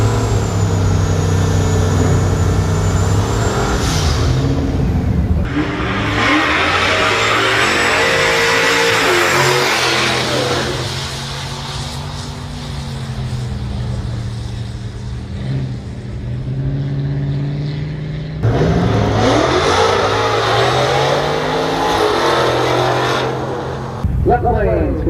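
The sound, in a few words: cars drag racing down the strip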